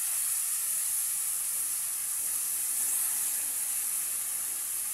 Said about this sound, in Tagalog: Atin ang igigisa ang ating talong mga idol.